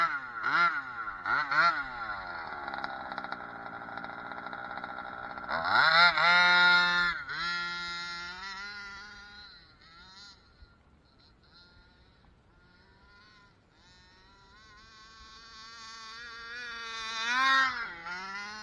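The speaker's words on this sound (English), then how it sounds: "we're out here with the Rovan Baja with the 29cc motor in it" A Rovan Baja RC car with a 29cc two-stroke motor buzzes nearby, its pitch rising and falling through repeated revs and a couple of sharp throttle bursts, whining high and raspy throughout.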